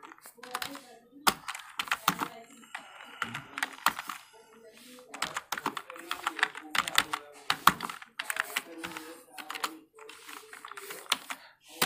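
Fingers type on a computer keyboard in a word-processing lesson, with rapid clicking keystrokes in bursts and short pauses. A voice talks over the typing.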